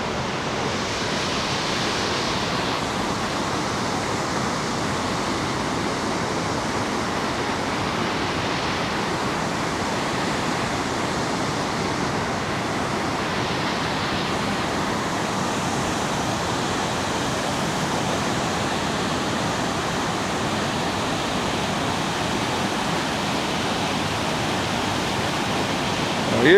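River water cascades over rocks at Cave Falls in Yellowstone's Cascade Corner, a steady, full-bodied rushing roar that holds constant for the whole stretch with no voices.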